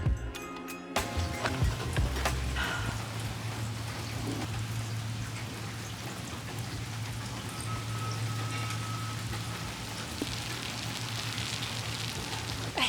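Rain falls steadily outdoors, a dense close patter of drops on surfaces with a low hum underneath, constant throughout.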